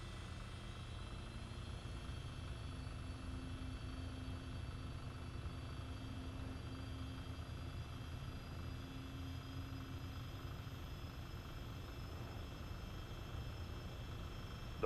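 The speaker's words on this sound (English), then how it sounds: "APU generator switch on, and then APU start." The APU of a Falcon 50 business jet, in a flight simulator, runs with a faint, steady turbine whine and hum. A high tone climbs slowly over fifteen seconds with no talking.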